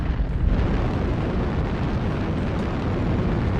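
Airstrike explosion in a mech combat video game, a loud, sustained rumbling blast with dense low-end roar holding steady for several seconds, no voices.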